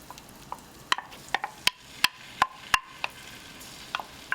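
Spices cooking gently in melted butter in a pan: a quiet background sizzle broken by a string of sharp, distinct pops and crackles at irregular intervals, with no voices.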